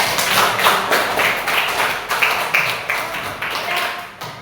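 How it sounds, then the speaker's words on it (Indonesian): Students in a mathematics classroom clap together in a rhythmic, evenly spaced pattern of loud group claps, close and lively, with some voices mixed in. "Tepuk tangan untuk kita semua"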